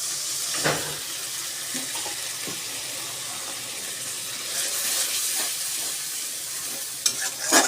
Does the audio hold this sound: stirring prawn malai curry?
yes